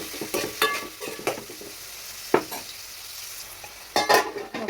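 Green chillies, curry leaves, onion and cumin frying in hot oil for a potlakaya curry give a soft, steady sizzle, broken by several sharp clinks and scrapes of a spoon stirring against the pan.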